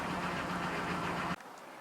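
A high-mileage 2007 Chevy truck with a 5.3 engine idles with a steady, slightly rough drone for over a second before the sound cuts off abruptly near the end.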